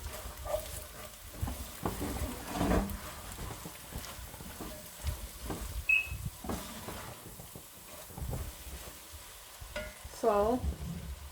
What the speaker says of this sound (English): and then you stir